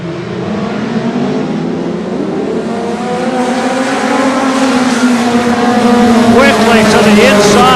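Pro 4 modified race cars roar through an 8-lap short-track qualifier, several engines rising and falling in pitch as they pass close by, loud and continuous, with the drone building toward the end.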